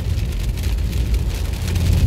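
Steady rain falls on an overcast road near Meteora, Greece, a dense, continuous hiss with a low rumble underneath and no voices.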